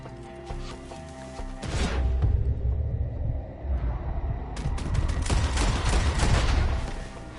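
Sustained gunfire from Red Dead Redemption 2, a loud, dense fusillade of overlapping shots with a deep rumble, running almost continuously with only a short dip before it surges again.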